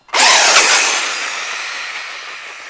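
A Traxxas Slash 4x4 RC car launches in a parking lot: its electric motor bursts into a loud, high whine that fades steadily as the car speeds away, with no talk.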